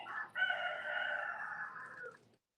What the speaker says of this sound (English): Oh yeah, the rooster's joining in now.